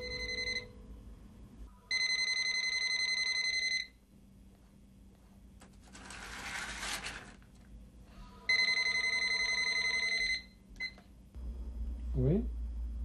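A telephone rings twice in loud, electronic bursts about two seconds long, separated by a pause filled with a burst of noise, with a short voice heard near the end.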